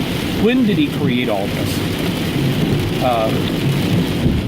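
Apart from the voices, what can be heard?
heavy rain falling outdoors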